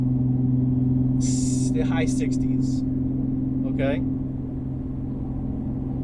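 An Infiniti G37 with stock headers and a Motordyne exhaust cruises in fifth gear at about 2,500 RPM, making a steady, smooth low engine hum and road rumble with no drone while someone talks over it.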